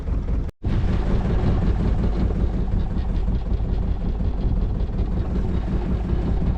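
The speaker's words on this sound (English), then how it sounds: "Now the wind picked up from this way" Wind buffets a microphone while a boat docks, a steady rushing roar with a low engine-like rumble underneath. It is loud and continuous apart from one brief gap near the start.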